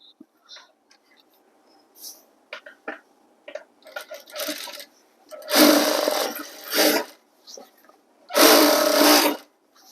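A sewing machine stitching the folded hem of a school uniform pant. Scattered handling clicks and rustles come first, then two loud, close, whirring stitching bursts of about a second each, separated by a short pause.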